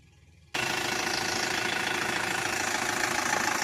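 Isuzu Elf truck diesel engine from 2016 idling, starting abruptly after a quiet moment and then running steady and loud with a rough, knocking clatter, close up.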